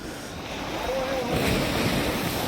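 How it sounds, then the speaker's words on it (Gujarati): Ocean surf breaks at a seashore near the Bhadkeshwar Mahadev temple in Dwarka, a steady broad wash of waves under wind noise on the microphone, with a faint voice in the background. "મોજા પણ મસ્ત આવે છે."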